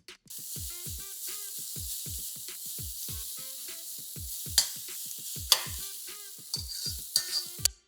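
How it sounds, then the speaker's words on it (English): Broccoli, ginger and garlic stir-fry in a wok, with steady loud sizzling and a rapid run of regular scraping strokes from a spatula, plus a few sharper clanks toward the end; no talking. "get the ginger and garlic into the wok and stir fry these until nice and aromatic"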